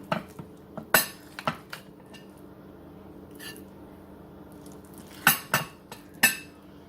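Dishes and cutlery clink in scattered sharp bursts while a poor man's casserole is plated up, several distinct clatters with quiet pauses between them and no talking.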